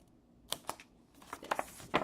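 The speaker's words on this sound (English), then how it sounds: "You just want to cut straight across." Scissors cut straight across paper for an envelope, giving a few quiet, close snips and crisp crinkles in an uneven series.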